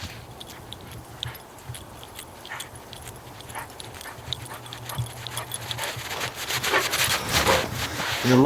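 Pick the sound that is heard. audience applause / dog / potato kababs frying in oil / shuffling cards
dog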